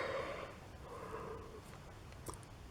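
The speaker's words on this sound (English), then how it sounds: "Oh, excuse me, I had to yawn." A person yawns with a long, breathy drawn-out exhale that fades, fairly close and quiet, in a calm indoor room.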